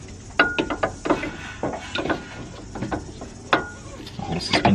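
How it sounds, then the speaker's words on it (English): Bolts at the top of a suspension strut on a Nissan 350Z with BC Racing coilovers being tightened by hand, giving close, irregular ratchet clicks and metallic clinks in short bursts, with no talk. "So at the moment I'm just tightening the 2 bolts at the top of the suspension strut"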